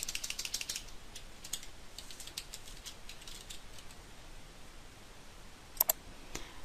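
Quiet typing on a computer keyboard, irregular bursts of soft key clicks, a busy flurry at first, then sparser taps, and two sharper clicks near the end, with no talk.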